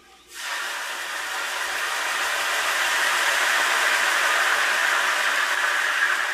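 White wine hits a hot pan to deglaze it during outdoor trout cooking, setting off a sudden, loud, steady hiss that starts almost at once and holds strong to the end, with no talking.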